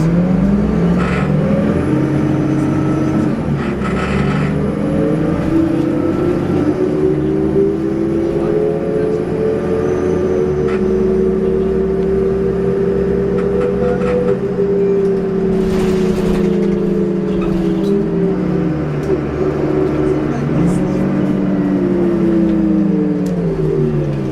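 A loud diesel engine of a 2004 New Flyer D40LF city bus revs up and winds down through several gear changes nearby, with an occasional air hiss.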